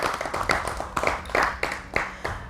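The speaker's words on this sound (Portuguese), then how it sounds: "Uma salva de palmas ao Dr. Cassanias." An audience applauds a guest on a Mozambican panel talk show about tourism, steady clapping with sharp individual claps standing out over the room.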